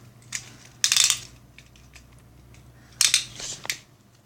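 Beyblade spinning tops launched into a stadium, two loud bursts of metallic clattering and scraping collisions, each lasting a fraction of a second, separated by quieter ticking over a low steady background hum.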